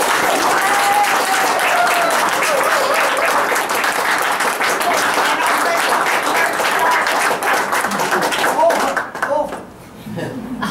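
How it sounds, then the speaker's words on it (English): Sustained audience applause at a book launch, dense, even clapping from a room of people lasting several seconds before trailing off into scattered claps. "A big round of applause."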